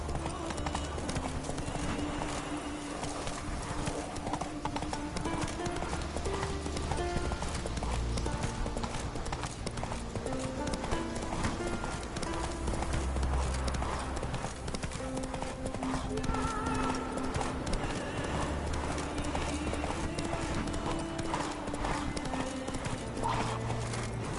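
Roach the horse gallops through a video game world with rapid, steady hoofbeat clip-clops and occasional whinnies, backed by constant game ambience and a voice talking over it throughout.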